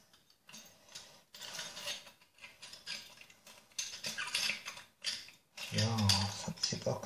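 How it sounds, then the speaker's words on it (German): A screwdriver knocks and scrapes inside an old incandescent light bulb to loosen its inner parts, giving irregular close rattling and grinding bursts, with a voice talking over the scraping. "ich schlage jetzt einfach hier mal ein bisschen mit dem Schraubenzieher durch, dass sich hier das Innenleben, was so wackelt,"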